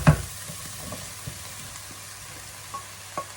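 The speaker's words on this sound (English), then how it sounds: "I will be mixing while I put it." Vegan Galician chickpea stew stirred in a pan, with a soft bump at the start, a low simmering sizzle and occasional light scrapes of the spoon.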